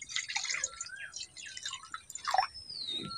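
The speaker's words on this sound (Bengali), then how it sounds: "এখন কড়ার মধ্যে জলটা দিয়ে দিচ্ছি।" Water is poured into a kadai on a lit stove for boiling raw mangoes, giving a close splashing trickle with scattered drips.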